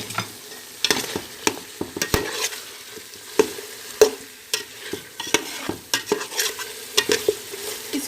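Ground spice masala with nutmeg and mace is fried in a pan for biryani, a soft sizzle underneath repeated sharp scrapes and taps of a spoon stirring against the metal.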